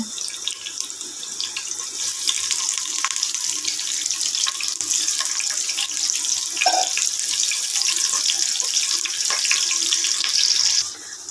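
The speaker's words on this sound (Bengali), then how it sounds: "তেল গরম হয়েছে, একটু পেঁয়াজটা দিই।" Onion dropped into hot oil while cooking a prawn and ash gourd curry, giving a loud, steady, close sizzling hiss that runs unbroken for the whole stretch, with no voices.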